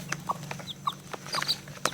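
Chickens cluck in short, scattered bursts close by, several birds calling over a low steady background hum.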